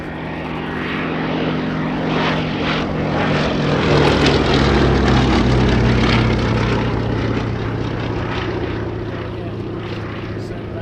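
A Westland Lysander propeller aircraft at an airshow, its engine drone swelling as it passes overhead and then slowly fading, loud and sustained throughout.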